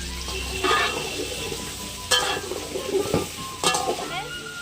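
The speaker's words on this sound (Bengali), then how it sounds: "আলুটা এবার সুন্দর করে ভাজতে হবে" Potatoes fry in a pan with a continuous close sizzle, broken by several bursts of stirring and scraping with a utensil against the metal.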